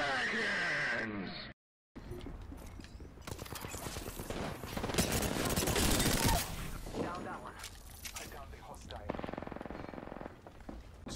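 Rapid automatic gunfire in Apex Legends, loud bursts and sustained rattling volleys through most of the clip, broken by a short silent gap near the start, with game sounds mixed in.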